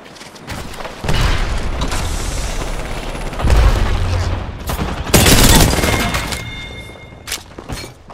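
Loud Apex Legends gameplay with gunfire and a grenade blast: dense bursts of shots, then heavy booming explosions around the middle, close and continuous, with sharp crackling rounds tailing off at the end.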